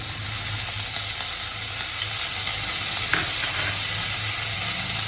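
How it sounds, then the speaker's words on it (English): A hot pan of restaurant-style noodles hisses and sizzles steadily as vinegar goes in, a continuous close frying hiss with faint stirring clinks and no talk. "First we'll add 1 tablespoon of vinegar."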